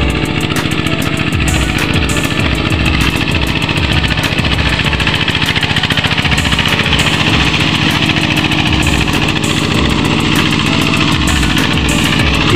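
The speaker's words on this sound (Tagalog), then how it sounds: "Nag-grass cutter." A grass cutter runs beside a house, a loud, continuous engine drone with a rough, rattling pulse that holds steady throughout, close and with no speech.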